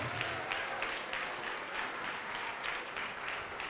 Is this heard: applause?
yes